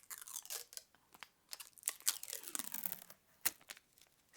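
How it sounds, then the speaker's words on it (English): Thin plastic film being peeled and torn off a makeup palette, a close, quiet run of crinkly rips and crackles in short bursts, with no talking. "I still have the little plasticky on here, so I figured I'd rip it off with you guys"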